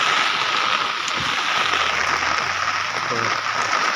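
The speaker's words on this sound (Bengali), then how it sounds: "আর বৃষ্টি শুরু হয়ে গেছে এখন।" Steady rain hisses loudly and continuously all around, close by, with faint low rumbles underneath from a street where a person walks under an umbrella on the way from the office toward a train.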